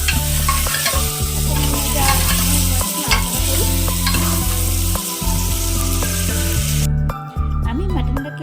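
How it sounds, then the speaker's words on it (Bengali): Mutton frying in a pan for a quick mutton curry, stirred in loud, continuous scraping strokes over a strong sizzle, heard close up with brief pauses between passes. "আমি মাটনটাকে প্রায় মিনিট 5-6 ধরে নাড়াচাড়া করে নিয়েছি"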